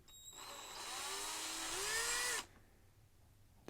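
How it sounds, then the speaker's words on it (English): A power drill bores into the brittle plastic post of a G.I. Joe action figure, a steady whining drone about two seconds long that climbs in pitch before cutting off sharply, close and alone. "Try not to let the drill bit veer too far and actually drill into the figure instead of just the post."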